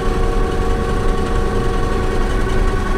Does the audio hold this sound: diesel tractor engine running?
yes